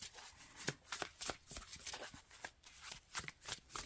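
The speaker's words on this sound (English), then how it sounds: "let's shuffle here. Just to see how well they shuffle." Lythra tarot cards are shuffled up close in quick, repeated riffling bursts, soft and crisp with no talking.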